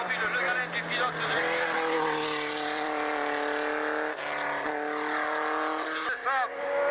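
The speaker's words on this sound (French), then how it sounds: "Jean-François Fabre qui s'élance donc dans sa première montée." A formula-style single-seater race car launches at the start of a hill climb in Moissac, its engine climbing loudly through rising, falling harmonic sweeps as it pulls away, with a commentator talking over it throughout.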